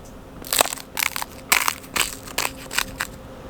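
Thin ice on cold-morning puddles crunching and crackling underfoot, about seven sharp close crunches in an uneven walking rhythm with quiet gaps between steps.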